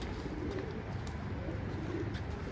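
Young red-marked pigeons coo softly inside a coop, a faint, low, steady murmur at a distance.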